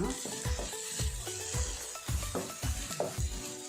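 Goat head pieces frying in a pan on high heat, a steady sizzle broken by a series of low scraping stirs, close and fairly quiet.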